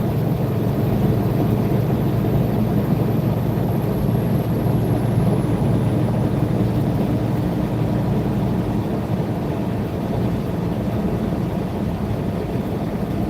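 A Cummins 605 inline six-cylinder diesel engine runs at a steady idle, a loud, continuous low rumble with no change in pitch or rhythm throughout.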